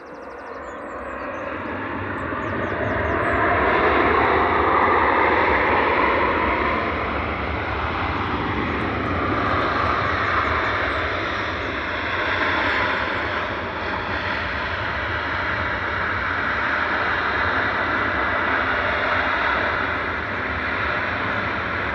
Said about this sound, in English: 2E from Punta Cana touching down flight 157787-9